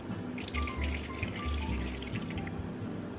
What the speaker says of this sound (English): I'm just gonna use my bottled water that we have and pour this right into the tank.